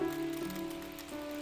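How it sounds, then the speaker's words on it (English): Steady rain falls on a surface as a continuous soft patter, accompanying a read-aloud storybook about a turtle, a rabbit and a fox, with a faint tonal hum beneath and no talking. "It starts to rain."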